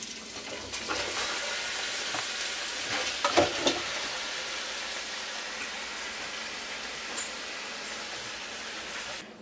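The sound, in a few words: onions cooking in butter and oil for French onion soup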